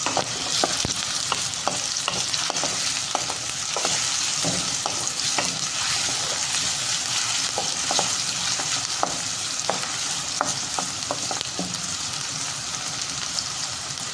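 Onion, with garlic, frying in a pot for a sardine dish: a continuous loud sizzle with scattered scraping and stirring clicks, no voices.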